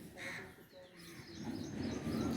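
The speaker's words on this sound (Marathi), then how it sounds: "बघा कावळे किती जमा झाले" Several crows caw in the distance, overlapping calls against outdoor background noise and a faint voice.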